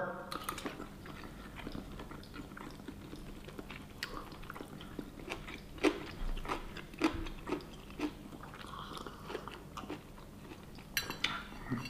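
Chewing and biting on pork from kimchi jjigae, a Korean kimchi stew, with soft wet mouth sounds, small crunches and occasional light clinks of utensils, close and fairly quiet throughout.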